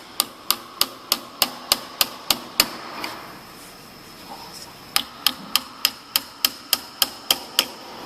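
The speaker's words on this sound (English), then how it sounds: "Then hold it in place and hammer time." A hammer taps a small wooden memo holder in two quick, even runs of sharp, close strikes, with a brief pause between them.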